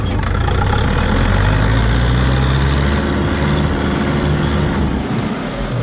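A steady, loud engine drone runs throughout with a low rumbling hum and a faint rising tone, like a small tractor motor under load while moving: a Kentavr tractor being test-driven.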